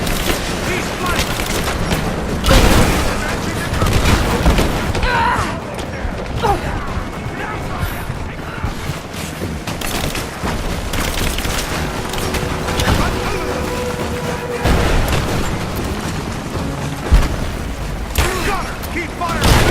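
Gunfire and explosions crackle and boom through a Rise of the Tomb Raider battle, with dense bursts of shots and heavy blasts layered over shouting voices and mechanical clatter throughout.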